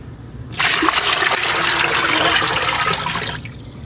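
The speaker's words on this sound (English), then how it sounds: "I'm gonna go ahead and add 9 cups of room temp water to this" Nine cups of room-temperature water pour steadily into a pot in one continuous rush for about three seconds, then stop abruptly, close and fairly loud.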